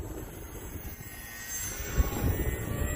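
A HobbyZone AeroScout S 1.1m RC airplane flies overhead, its small electric motor giving a steady whine that swells slightly as it passes, with no talk.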